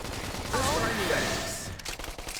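Sustained gunfire from a Xenoblade Chronicles X battle, a dense fusillade of rapid shots with sweeping tonal effects, loud and close, continuing under game sounds and briefly thinning near the end.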